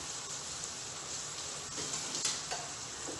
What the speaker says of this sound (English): let me wash my onion